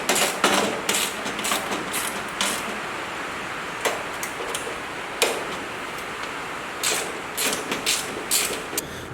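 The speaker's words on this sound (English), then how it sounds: "I'm just going to go through and slowly start tightening everything up" Tools clatter while nuts and bolts are tightened on Motobilt armor and rockers fitted to a Jeep TJ, giving sharp metallic ticks and clanks at irregular intervals over a constant hiss of background noise.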